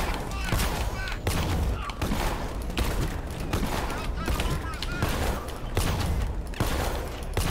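Rapid bursts of gunfire from the video game Batman: Arkham Knight crackle steadily throughout, dense and loud with repeated sharp shots layered over constant battle noise.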